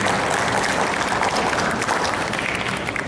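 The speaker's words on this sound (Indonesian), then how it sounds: "Kita beri aplaus dulu Mas Agung Darono." An audience at a forum on academic writing applauds a speaker being introduced, a steady, dense wash of many hands clapping throughout with no talk over it.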